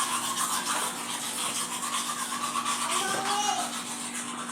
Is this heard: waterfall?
no